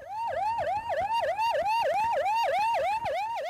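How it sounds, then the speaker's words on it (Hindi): An ambulance siren wails close by in heavy city traffic at a busy intersection, a loud rapid rising-and-falling yelp repeating steadily about every third of a second with no talk over it. "जहां सायरन बजता रहा"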